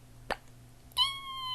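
Pet cat in a new apartment: a short soft click or plop, then a single clear, high meow near the microphone, alone in a quiet room.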